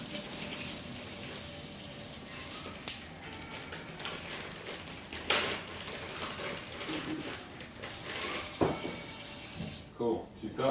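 Hot water runs steadily from a kitchen tap into a cooking container while rice is being prepared, a continuous close hiss with a few clunks, and a voice speaks over it near the end.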